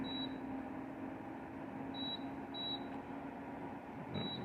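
A Zero Breeze portable air conditioner gives four short, high electronic beeps as it is set to cool mode, spaced unevenly over a steady fan hum with no talking.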